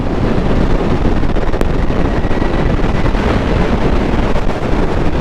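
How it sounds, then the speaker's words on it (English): Heavy wind buffeting the microphone while riding a Harley-Davidson LiveWire electric motorcycle, a loud, constant roaring rush with no engine note. "Now the wind is definitely brutal"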